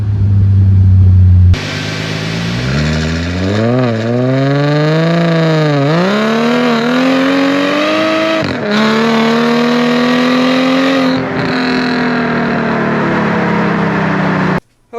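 A supercharged Mercedes SLK320 with an aftermarket intake and a 2.5-inch mild steel exhaust roars loudly past, its engine note sweeping upward through the gears with a rising supercharger whine before cutting off abruptly.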